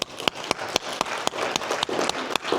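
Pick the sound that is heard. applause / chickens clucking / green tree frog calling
applause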